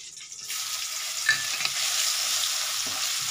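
Crushed garlic and spices with bay leaves dropped into hot oil for a fish curry tempering, a sudden loud sizzle swelling into a steady close frying hiss with a light scrape or two.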